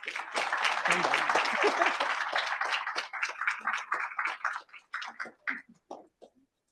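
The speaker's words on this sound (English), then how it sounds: "Another round of applause, please, while I find my place." Audience applause at a conference panel session, dense at first and then thinning into scattered individual claps that taper away over several seconds.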